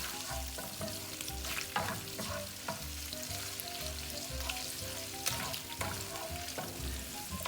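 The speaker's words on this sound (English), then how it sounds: "Now to the oil, you're gonna throw in your garlic." Garlic cloves sizzle and fry in hot oil for an orecchiette dish with sausage and broccoli rabe, a continuous crackling hiss broken by occasional stirring scrapes.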